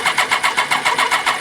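Engine cranking with some throttle as it tries to start, a rapid, even churning rhythm of starter pulses, close and loud, for a short burst.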